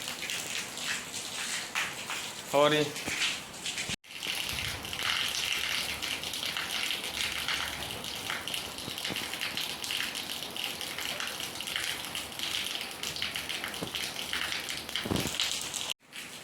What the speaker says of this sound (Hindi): तो बारिश तेज़ हो गई है फाइनली